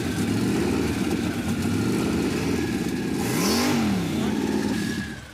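The engine of the Roadkill muscle truck starts and revs hard, loud and close, its pitch swooping up and back down midway through, then settling before it fades at the end.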